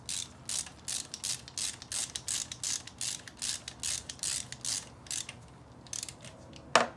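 A ratchet wrench with a hex socket clicks in quick, regular bursts while a bolt on a V6 Toyota Celica engine is turned, close and crisp, followed by one sharper clack at the end.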